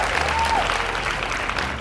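Applause from a seminar audience after a talk, a steady wash of many hands clapping at moderate volume throughout, filling the room without pause.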